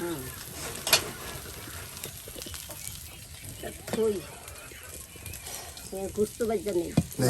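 Chicken meat frying in a pan at a home cooking session, with a steady sizzle and stirring scrapes, occasional voices talking and a bird calling faintly in the background.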